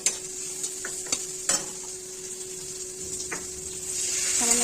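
Ground garlic paste hitting hot spiced oil in a pan while cooking a rohu fish curry with potato and tomato, giving a steady soft sizzle with a few sharp stirring clicks and scrapes, growing slightly louder toward the end.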